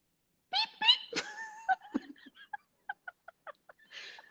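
A voice imitates baby chicks with a string of short, high-pitched peeps, quick at first, then spaced out, ending in a breathy whistle.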